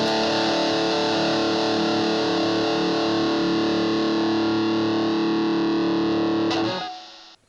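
Heavily distorted electric guitar played through a Boss Katana Air desktop amp with the boost engaged, a dense sustained chord ringing loudly and steadily before cutting off abruptly near the end.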